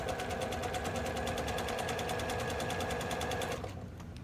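A sewing machine stitches elastic onto the folded edge of a Luna bralette, running steadily in a fast, even whir of needle strokes for several seconds before slowing and stopping near the end.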